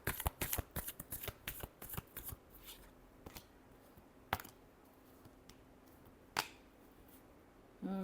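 Tarot cards are shuffled in quick riffling bursts for the first few seconds, then a few isolated snaps and taps follow, close and fairly quiet with no voice.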